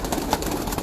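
Blue-tailed pigeons (neel dumbi) cooing softly amid a noisy outdoor background, short low coos within under a second.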